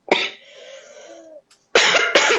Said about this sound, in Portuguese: Me dá crise de tosse toda vez, desculpa